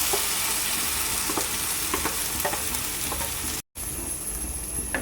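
Ground tomato paste frying in a pan for a tomato kuruma, with a steady, close sizzle and scattered soft scrapes of stirring, broken by a brief cut to silence near the end before the hiss resumes.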